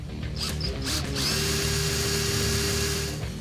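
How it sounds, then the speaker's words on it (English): A power drill whirs steadily and loud, drilling a small pilot hole in the metal of a 1965 Ford Mustang, its pitch wavering slightly as the bit grinds in, with no talking. "We'll drill this hole out to run our fog light wire. We're going to start with a small pilot hole."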